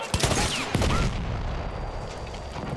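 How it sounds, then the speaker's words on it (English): Gunfire bursts in the Battlefield 1 video game, a couple of sharp close shots followed by a rumbling wash of distant battle noise. "Enemy machine gun over there!"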